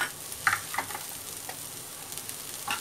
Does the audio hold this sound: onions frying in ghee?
yes